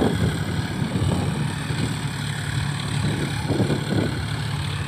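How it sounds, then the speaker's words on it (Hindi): A 50-horsepower John Deere 5050D tractor sits idling, a steady low diesel rumble with a faint even throb, continuous and moderately close, with no voices. "यह है दोस्तों जॉन डियर 5050D"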